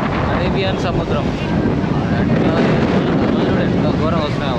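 Arabian Sea waves and strong wind at Rameshwaram beach make a loud, unbroken roar of surf and buffeting air across the whole stretch.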